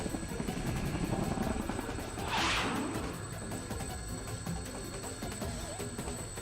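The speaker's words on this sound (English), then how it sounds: "There's a deafening roar and the helicopter shakes madly but recovers." A helicopter roars in the video game Persona 4 Arena Ultimax, a constant heavy rotor and engine drone with a brief loud whooshing surge partway through.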